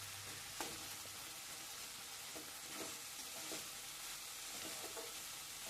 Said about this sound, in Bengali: দিয়ে মশলাটাকে আরও ভালো করে কষিয়ে নেব, যতক্ষণ না মশলা থেকে তেল ছাড়ছে